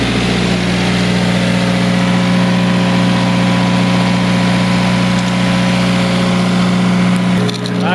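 Loud, close steady idle of a 2015 Subaru WRX engine just after a cold start, a constant low droning hum with no speech.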